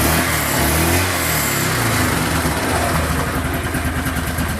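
A Yamaha Ultramatic motorcycle engine revs loudly up close, its buzzing note rising and then settling into a rapid, pulsing idle-like throb.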